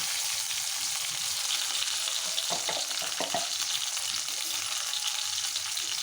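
Raw banana slices fry with green chilies and curry leaves in a pan of oil, giving a loud, continuous sizzle. A few brief scrapes come from stirring partway through.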